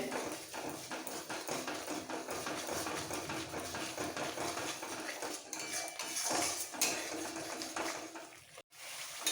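Red chili and coriander powder masala for an Afghani egg curry is sautéed in a pan, with continuous close scraping and clatter of the spatula over a low sizzle.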